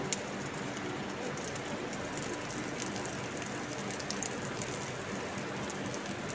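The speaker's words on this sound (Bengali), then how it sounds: "এবার পেঁয়াজটা আমি তেলে দিয়ে দিচ্ছি আর দিয়ে দেবো দুটো শুকনো লঙ্কা আর 1 চামচ জিরা।" Chopped onion, dried red chillies and a spoonful of cumin fry in hot oil, giving a steady, even sizzle that crackles continuously throughout, close up and with no voices.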